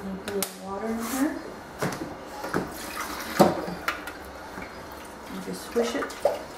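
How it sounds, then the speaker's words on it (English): Water splashes and trickles into a salsa container with clunks of handling, close by, while someone talks over it. "Put a little water in here."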